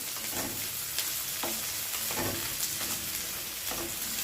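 Vegetables sizzle and fry in a pan for a tomato-based dal pithi dish, a steady close crackle with a few brief stirring scrapes, no voices.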